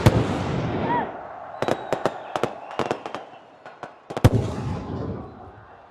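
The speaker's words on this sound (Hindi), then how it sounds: "इन पटाखों की एक एक चिंगारी हमें इमरान खान की याद दिला रही है" Firecrackers burst at a cricket stadium ceremony in Peshawar, a loud opening crack followed by a scattered volley of sharp pops in the middle and another strong blast, all over a crowd murmur.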